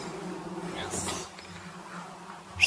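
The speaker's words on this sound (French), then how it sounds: "Je sais pas si on entend à la caméra comment ça bourdonne de mouches" Flies buzzing inside a bathroom of an abandoned building, a faint steady insect drone close by, with brief scuffs and movement and a short sharp noise at the end.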